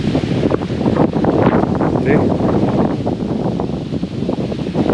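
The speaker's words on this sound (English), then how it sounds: "It's too windy here." Steady wind buffeting the microphone, a continuous low roar with gusty fluctuations throughout, with faint voice fragments mixed in.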